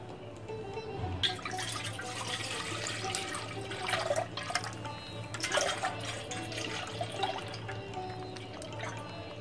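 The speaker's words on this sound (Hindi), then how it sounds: "दूध भगोनी में डाल दिया है।" Milk is poured into a pot in a home kitchen to make chenna for rasgulla. The liquid splashes and gurgles quietly up close, with a few louder surges, and no one speaks.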